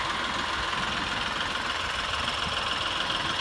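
A John Deere 310D backhoe tractor engine idles at a steady, even rumble, loud and close, holding an unbroken drone throughout with no voices.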